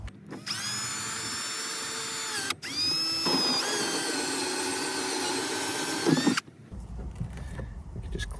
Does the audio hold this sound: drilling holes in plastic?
yes